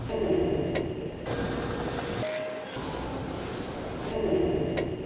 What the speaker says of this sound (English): Right now, you're watching the main assembly line inside this Japanese factory